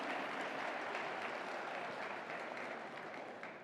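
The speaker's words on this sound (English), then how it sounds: "Let's give another round of applause to them." Faint, steady applause from an audience at a robotics competition event, a diffuse wash of clapping that fades slightly at the end.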